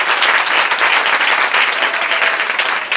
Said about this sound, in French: On demande des acclamations pour cette parole.